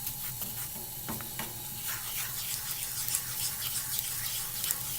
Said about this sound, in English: Let it boil to let it soften up the mushrooms a little bit.